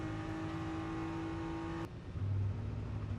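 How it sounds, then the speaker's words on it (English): Onboard a Rowe Racing BMW GT race car during qualifying for the FIA GT World Cup at the Macau Grand Prix, a loud sustained high engine whine that drops abruptly as the car shifts, then a rougher roar. "On board with Raffaele Marciello, you're aboard the Rover Racing BMW."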